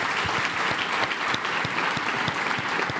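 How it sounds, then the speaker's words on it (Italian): An audience applauds steadily at a sports event, a dense, even wash of clapping with no voices over it. "Facciamo un applauso a questi"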